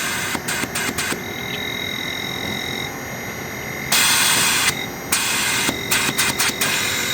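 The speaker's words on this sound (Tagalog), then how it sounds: "Then, yung compressor natin, nag-run na rin." A Daikin air conditioner compressor runs with a steady mechanical hum and hiss, broken by repeated clicks and louder bursts of airy noise.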